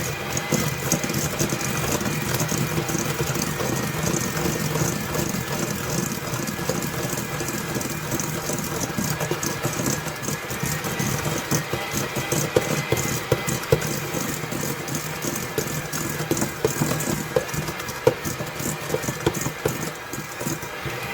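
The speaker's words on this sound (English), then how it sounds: "in a mixing bowl, we're going to put 1/3 cup of softened butter, salted, with 1/2 cup of granulated sugar. And we're going to beat this until it's fluffy" An electric mixer beats softened salted butter and granulated sugar in a mixing bowl, producing a steady whirring motor hum with irregular rattling and knocking against the bowl throughout.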